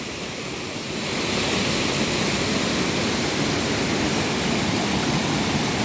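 Waterfall in Chiang Mai, Thailand, giving a steady broadband roar of falling water that swells after the first second and then holds constant and loud, with no voices.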